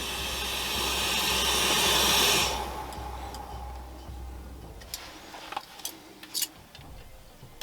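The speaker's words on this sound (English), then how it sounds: "There we have boiling water, my friends." Water comes to a boil over a small homemade hobo stove outdoors in Sweden, giving a loud, broad steamy hiss that swells and then fades. Scattered light ticks and clicks follow.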